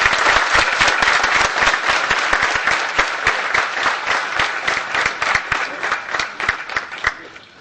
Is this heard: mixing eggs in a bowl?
no